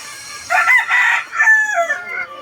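A Bone Crusher hatch gamecock rooster crows once, loud and close, a full drawn-out cock-a-doodle-doo with a sliding, fading end, heard alone without talk.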